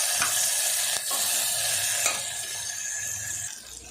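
Long-sliced onions fry in hot ghee with whole spices such as cloves while being stirred for lunchbox rice, a bright continuous sizzle with a few clicking scrapes of the spoon, close and without talk.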